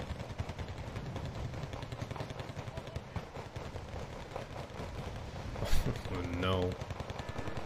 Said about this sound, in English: The big artillery. And here's some more cluster.